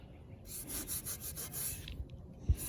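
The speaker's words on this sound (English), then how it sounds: "I just take the red Scotch-Brite after it dries real well." A red Scotch-Brite pad scrubs across a painted bike part for a board track racer, giving steady close abrasive rubbing strokes with a brief sharp knock near the end.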